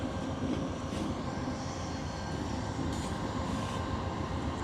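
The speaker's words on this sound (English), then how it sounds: "There goes the train." A steady, low rumbling roar of a passing train at moderate distance, continuous throughout with no voices.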